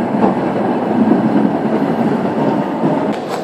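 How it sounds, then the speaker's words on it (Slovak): Tram running along a main city street at night in Ostrava, a steady loud rolling rumble of wheels on rails with faint clatter, sustained throughout without talk. "hen, električka nikto ju neriadi."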